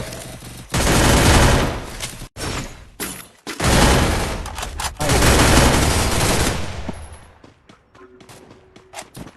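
Loud bursts of rapid automatic gunfire in a shooter video game, several long volleys separated by brief gaps, then scattered lighter shots and thumps tapering off near the end.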